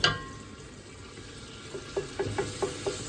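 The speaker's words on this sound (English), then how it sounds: "Once you get your oil nice and hot, you're going to add about 6 tablespoons of tomato paste." Six tablespoons of tomato paste frying in hot oil, a steady low sizzle with a few scraping stirs near the end, close and moderately quiet.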